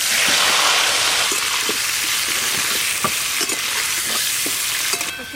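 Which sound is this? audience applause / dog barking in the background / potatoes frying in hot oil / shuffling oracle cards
potatoes frying in hot oil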